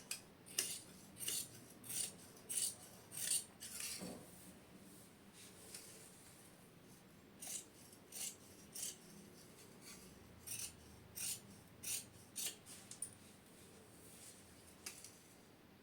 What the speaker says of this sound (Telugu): ఇప్పుడు దీని వెంట కటింగ్ ఇచ్చుకున్నాం